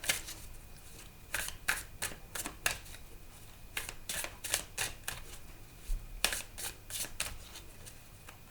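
A deck of oracle cards is shuffled and cut by hand in a series of sharp riffling bursts. The quick, crisp flutters come close and in irregular clusters against a quiet room.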